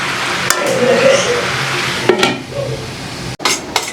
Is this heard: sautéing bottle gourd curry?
yes